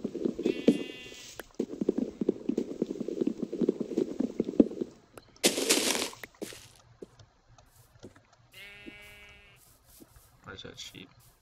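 Sheep in the Minecraft video game bleat twice with short wavering calls, separated by soft footsteps and rustling, while someone talks in stretches between them.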